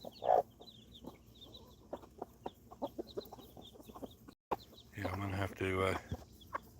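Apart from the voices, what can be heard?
chickens clucking, rooster with baby chicks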